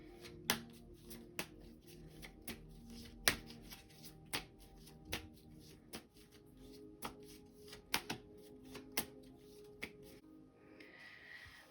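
Oracle cards shuffled and drawn by hand, a quiet close series of crisp slaps and snaps at irregular intervals over soft rustling, with no talk.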